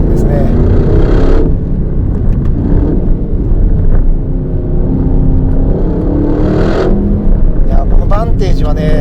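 A 2025 Aston Martin Vantage engine drones loud and low while driving a winding road, with throttle swells and revving surges as it accelerates, and someone talks over the cabin noise throughout.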